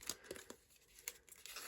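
Soft crinkling and tearing of a paper backing being peeled off a paper craft piece, heard close up as a few short, irregular rustles over about two seconds, no speech.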